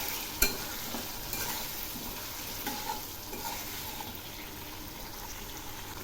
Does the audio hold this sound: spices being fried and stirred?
yes